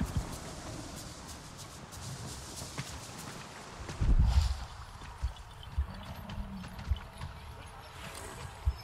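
A dire horse gallops in the Avatar Frontiers of Pandora video game, its hooves clopping in an irregular rhythm with one heavy thud partway through, mixed with game ambience.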